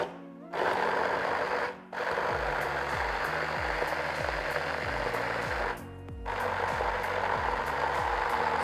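A food processor blitzes dates for a sticky date pudding: a close, whirring motor runs in bursts with a few brief stops, and its pitch sweeps and pulses as the blades chop.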